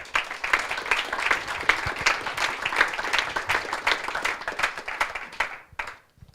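Audience at a rail and Hyperloop conference applauds to welcome a speaker, with steady dense clapping from a crowd that carries on for several seconds before tapering off into quiet.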